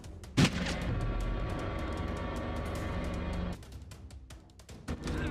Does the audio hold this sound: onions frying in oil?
no